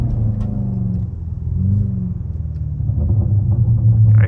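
BMW G99 M5 fitted with downpipes idling with a deep rumbling exhaust, low burbles and uneven pops swelling and easing, close and loud with no talking.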